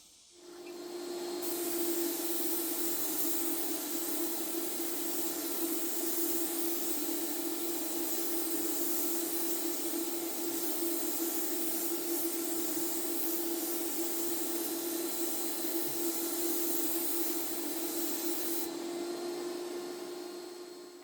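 A steady, continuous hiss of a Phalanx 5-stage HVLP electric spray gun spraying clear coat runs for about twenty seconds without pause, close and fairly loud, with no talking.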